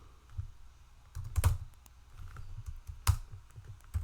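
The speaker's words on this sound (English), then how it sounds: "We're gonna type a random whole number." Keys clatter on a computer keyboard in short, uneven bursts of close clicks with quiet gaps between, while someone writes a C++ program.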